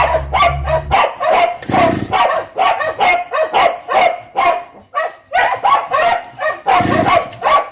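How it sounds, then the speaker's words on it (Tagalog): A house dog barks loudly and repeatedly in quick bursts, close to the microphone, with a steady run of sharp barks and short pauses throughout. "Pasensya na rin nga ho kayo sa aming aso at napakaingay."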